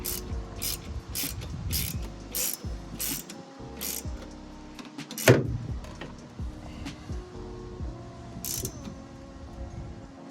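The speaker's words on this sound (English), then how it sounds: "So now I'll get my 14mm. Let's just go ahead and just tighten these guys up." A ratchet with a 14mm socket clicks in quick bursts as it tightens the nuts on a TRD strut bar for a 2011-2016 Scion tC, close and clear, with short pauses and a sharper knock midway.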